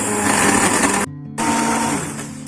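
A blender crushes ice for an iced coffee frappuccino with a loud, close, steady whir that cuts out briefly and then resumes, with no talk over it.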